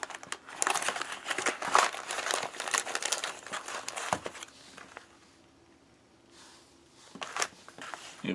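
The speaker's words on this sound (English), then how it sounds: "We're going to place it in this cardboard sleeve." A plastic Polish field ration bag slid into a cardboard sleeve, producing loud, close, continuous crinkling and rustling that pauses briefly before a few final crackles.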